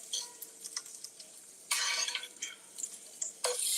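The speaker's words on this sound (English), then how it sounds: "I'm going to remove my potatoes from the skillet." Metal utensil scraping and clattering against a skillet as crisp fried potatoes are lifted out, with soft sizzling between a few sharp scrape bursts, close up.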